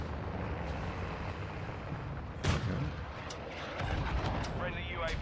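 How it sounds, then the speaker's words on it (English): Precision airstrike explosions in Call of Duty Modern Warfare II sound as a muffled rumble with one sharp blast near the middle, followed by further crackling impacts under a steady low roar. "Friendly precision airstrike inbound."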